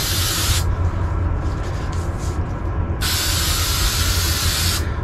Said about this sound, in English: while I spray these other ones down